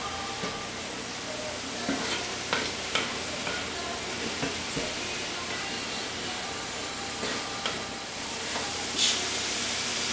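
Stuffed mushroom filling with fresh parsley being mixed in a hot pan, a steady close sizzle with repeated scraping and tapping of a utensil at irregular intervals, no talking.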